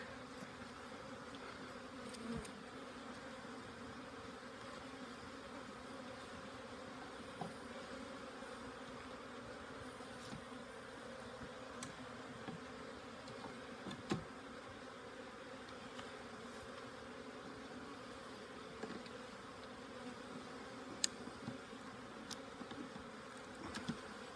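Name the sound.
honey bees buzzing during April hive inspection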